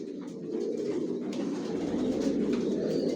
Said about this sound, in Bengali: অরিজিনাল রেসার জনসন লাইনের সব লংয়ের কবুতর পালি আমার লফটে।